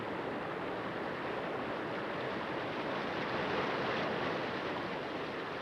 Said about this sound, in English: As the river rushes along, it eats away at the land,